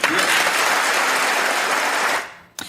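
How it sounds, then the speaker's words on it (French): American members of Congress applaud in a dense, loud ovation that fills the chamber, then fades out abruptly near the end, followed by a brief sound. "applaudissements de parlementaires américaines qui résonnent comme un soulagement"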